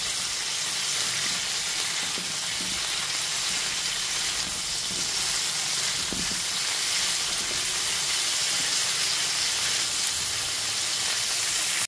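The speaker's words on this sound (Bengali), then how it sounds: "গ্যাসের ফ্লেমটা মিডিয়ামে রেখে 10 থেকে 12 মিনিট ধরে ফুলকপি টুকরোগুলোকে লাল করে ভেজে নিয়েছি।" Cauliflower pieces fry in oil over a medium gas flame, giving a steady, even hiss and sizzle that runs without a break, close and moderately loud, with faint clinks underneath.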